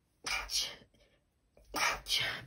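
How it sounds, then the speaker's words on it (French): Two breathy, hissing bursts come in quick pairs, separated by a pause, like a sick person sneezing up close. "Je vais éternuer."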